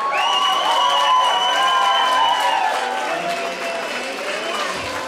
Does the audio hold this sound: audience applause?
yes